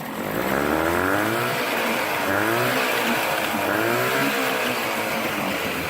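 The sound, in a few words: outboard boat motor running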